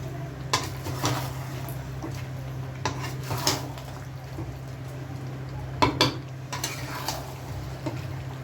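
Spicy chicken wings being stirred in a pan in a home kitchen, with repeated scraping and clinking of a utensil against the pan over a steady low hum, moderately close and without talk.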